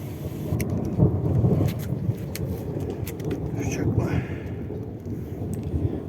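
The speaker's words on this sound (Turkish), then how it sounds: "Bu arada duyuluyor mu bilmiyorum ama gök gürlüyor." Low, rolling thunder rumbles steadily with rain pattering and muffled voices underneath, beside a samovar outdoors.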